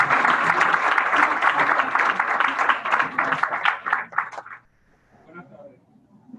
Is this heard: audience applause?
yes